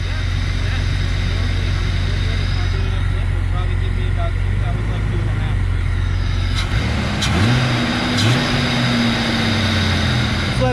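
Jeep Wrangler 4.0L engine idling with a steady low rumble, then a couple of quick throttle blips rise and fall cleanly, up close, with a voice briefly heard over it.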